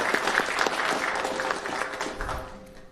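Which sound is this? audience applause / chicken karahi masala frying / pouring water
audience applause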